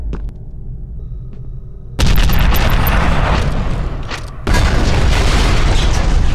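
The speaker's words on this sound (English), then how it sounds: "Did the rocket launcher work? Let's try again." Rocket launcher fire and explosions in the video game F.E.A.R., two sudden heavy booms that jump to a loud, dense roar and rumble, the second blast layering on top of the first, with no talk.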